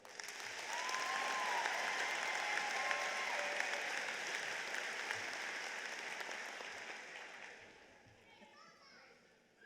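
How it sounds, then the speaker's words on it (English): Big, sustained applause and cheering from a crowd greet the class of 2022 at a high school commencement, with scattered shouts and young voices, holding steady before tapering off near the end. "Can we please give the class of 2022 a big round of applause?"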